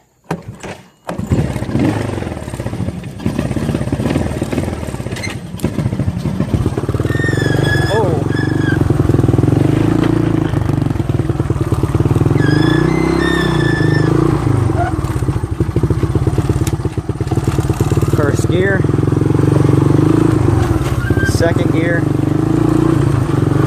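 A five-speed tractor engine running close by starts up, then revs and drops repeatedly as it shifts up through the gears, with a steady rumbling drone underneath and someone talking over it.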